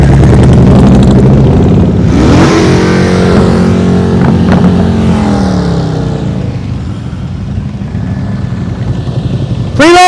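A motorcycle engine drones loudly during slow-speed riding practice, its pitch rising as the throttle opens, then easing off before a brief rev at the end.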